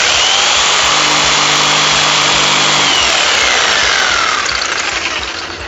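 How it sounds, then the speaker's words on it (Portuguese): A jigsaw cuts through clamped wood with its blade stroking up and down in a loud, continuous buzzing whine, close and steady, with a slight pitch shift partway through before the noise eases off at the end. "A tico-tico aqui é uma ferramenta que eu aperto aqui, ela vai mexer uma serra para cima e para baixo e eu vou passando essa serra contra a madeira"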